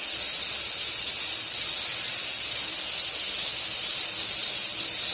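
Water poured into a hot pan of fish curry sets off a loud, continuous sizzling hiss that holds steady at close range throughout.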